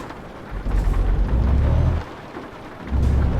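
Heavy downpour and rumbling thunder in the Euro Truck Simulator 2 driving game, a Renault truck following a log-carrying lorry through a storm; loud low rumbles swell in two long waves over steady rain hiss, with no talking.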